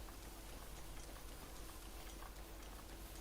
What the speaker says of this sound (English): cool it with the rain already